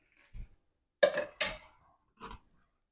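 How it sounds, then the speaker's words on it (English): A spatula is picked up from among kitchen utensils while making an enchilada casserole, giving a few brief, close clinks and clatters of metal separated by short silences. "Now let me get a spatula."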